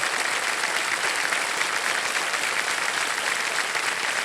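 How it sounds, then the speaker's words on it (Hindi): Sustained applause from a TV quiz show studio audience after a contestant wins 50 lakh rupees, a steady dense wash of clapping at even loudness throughout with no talk over it. "तालियां बज जाए एक बार फिर।"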